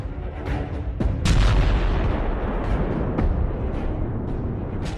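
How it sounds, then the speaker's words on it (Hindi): Heavy gunfire and artillery shelling along the India-Pakistan border roll on continuously, with repeated deep booms and sharp cracks over a dense, loud rumble and no voices. "बॉर्डर पर दनादन गोलियां चल रही हैं"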